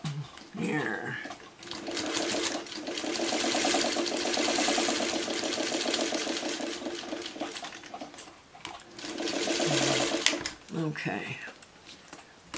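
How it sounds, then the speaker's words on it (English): A sewing machine stitches a paper-pieced Friendship Star quilt block in two steady, rapid whirring runs, each lasting several seconds. Someone talks briefly before, between and after the runs. "I'm just going to run that through my sewing machine right now"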